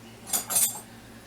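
A metal spoon clinks twice against a bowl in a quiet kitchen while pumpkin pie filling is being made, two short, bright taps close by.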